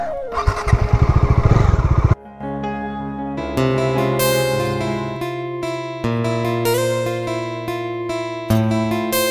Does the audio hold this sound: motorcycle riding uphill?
yes